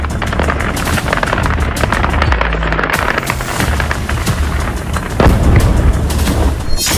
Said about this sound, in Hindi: रूस के Su-34 फाइटर बॉम्बर ने OFAP 500 एरियल बम दागे